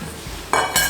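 Carrot cake batter with baking powder and baking soda being slowly mixed in a bowl: two short, bright clinks and scrapes of the utensil against the bowl stand out from a quiet kitchen background.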